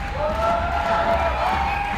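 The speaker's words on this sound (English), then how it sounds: "More support from the crowd as Jim gets back on the wall." A crowd at the La Sportiva Legends Only 2013 climbing competition cheers and shouts in a steady, moderately loud roar, with voices mixed into the noise.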